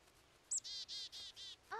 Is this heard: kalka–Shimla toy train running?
no